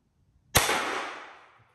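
A single sharp shot from an Umarex Glock 17 Gen 5 pellet pistol, a close crack followed by a short ringing decay in otherwise quiet surroundings.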